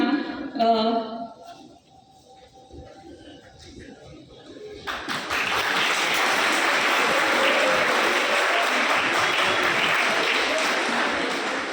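Audience at a public meeting with an SP at Kota Landmark breaks into loud, sustained clapping midway, a dense steady wall of applause that follows a few quieter seconds with voices.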